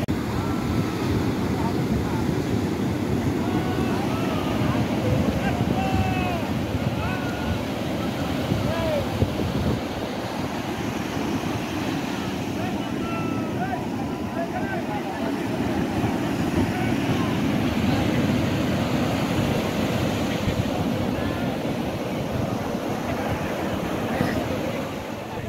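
Sea waves break on the beach at Puri, where bathers are in the water, producing a continuous broad roar of surf mixed with wind buffeting the microphone, steady and fairly loud throughout.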